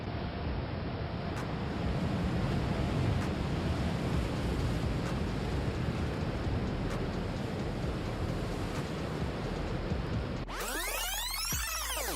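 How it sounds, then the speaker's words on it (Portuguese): Huge North Atlantic winter waves crash in a continuous loud roar of surf and wind during big-wave surfing, steady throughout, with the sound cutting off sharply near the end. "ventos fortes soprando do Oceano Atlântico Norte geram ondas como essa"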